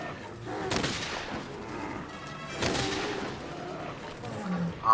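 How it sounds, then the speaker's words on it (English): Spread ammo fires like a shotgun in Monster Hunter World, with two loud blasts about two seconds apart amid roaring game noise. "Spread ammo is pretty good too. I mean, it's like shotgun ammo"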